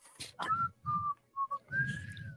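A person whistles casually in a short, tuneful run of four or five close notes, soft and up close, with slight breathy sounds between phrases.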